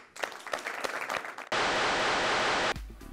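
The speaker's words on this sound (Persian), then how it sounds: "تشویقش کنید" An audience at a televised show applauds, starting with scattered claps that quickly become a dense, loud wash of clapping before cutting off abruptly.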